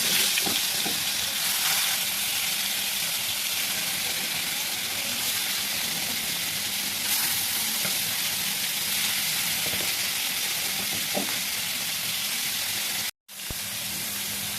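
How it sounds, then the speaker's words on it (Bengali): A koi fish frying in hot oil in a wok, giving a steady, even crackling sizzle that runs for many seconds, with a brief dropout near the end before the frying noise resumes. "কড়াইতে আমি তেল গরম করে নিয়েছি এখন ভেজে নিব একটা"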